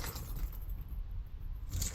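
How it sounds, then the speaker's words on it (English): A bunch of keys jangles close up in a car while a transmission controller is being installed, a continuous metallic rattle lasting a couple of seconds. "crazy mess of keys here."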